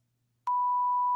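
A censor beep covering a swear word sounds as a single steady electronic tone that cuts in abruptly after a near-silent moment and holds to the end.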